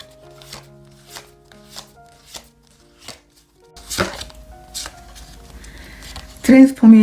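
Oracle cards are handled and shuffled with a run of soft, evenly spaced taps, followed by a denser riffling flurry, close and fairly loud against faint tonal background sound.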